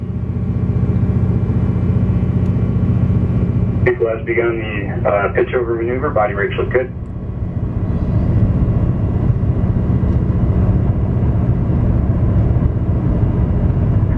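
An Atlas V rocket's RD-180 engine roars steadily and loudly through the Landsat 9 launch, a constant rumble with a brief radio voice speaking over it partway through.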